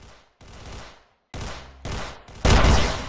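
Bursts of G18 pistol fire in the video game Arsenal, rapid full-auto volleys in short separated spurts, each louder than the last, with the final burst the heaviest.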